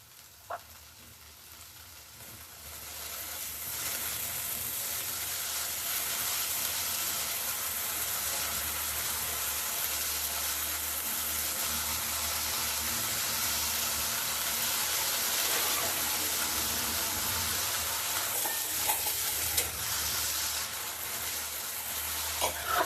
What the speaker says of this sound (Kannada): ಈ ಬೀನ್ಸ್ ಮತ್ತೆ ಕ್ಯಾರೆಟ್ ಅನ್ನು ನಾನು ಇದಕ್ಕೆ ಹಾಕ್ತಾ ಇದ್ದೀನಿ